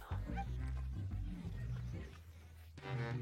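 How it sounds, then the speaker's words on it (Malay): A pet dog in a home kitchen during a cooking challenge, giving a few barks, yips and whimpers close by while people talk. "Anjing kita Chloe."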